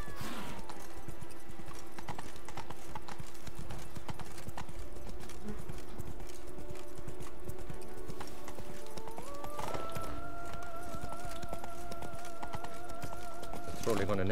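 Roach, a horse in The Witcher 3, gallops with steady clip-clop hoofbeats that run throughout, mixed with game music and an occasional snort.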